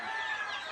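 Short burst of rooster clucking from a farmyard fowl, a continuous raspy vocalization lasting under a second, fairly close and alone without talk.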